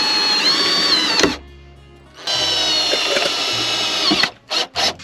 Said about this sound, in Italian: inizio ad avvitare qui e poi piano piano vado giù a scendere